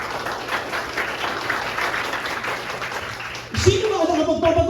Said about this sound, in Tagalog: O isa pang palakpak para ngayon.